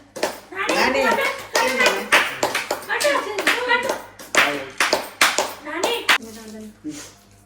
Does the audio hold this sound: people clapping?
yes